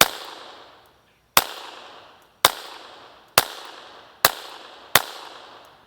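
Six sharp, evenly spaced .22 rifle shots through a compact Banish 22K suppressor, each a crisp crack with a short fading tail and brief pauses between them, with no talking.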